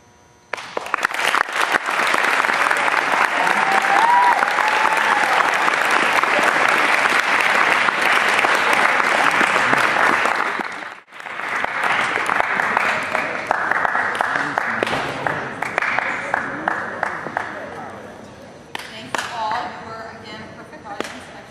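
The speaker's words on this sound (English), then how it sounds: "One more round of applause." An audience at a high school poetry recitation competition bursts into sustained, loud applause that holds for about ten seconds, dips briefly, then resumes and tapers off toward the end.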